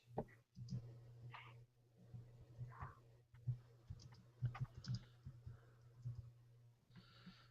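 Someone types on a computer keyboard in quick, irregular clicks and taps, close and faint, with light breathing and a low steady hum underneath.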